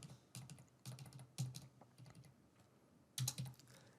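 Card details go in on a computer keyboard in quick, uneven bursts of key taps with short pauses, faint and close, with no voices.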